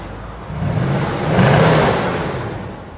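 A 2017 Nissan Titan SL 4x4 with the stock exhaust on its 5.6L V8 gives one short rev. The engine rises and falls over a couple of seconds, close by and muffled, with a broad rush of noise underneath.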